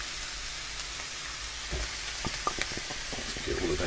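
Peas and parsley are stirred into a hot pan over a steady soft sizzle, followed by a run of close clicks and scrapes from the utensil as the mixing picks up.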